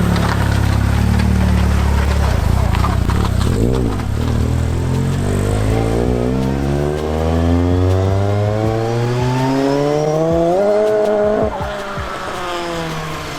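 A Ford Sierra Estate with a turbocharged Cosworth engine revs hard, loud and raspy, its pitch sweeping up and down through repeated gear changes, close by with no talking.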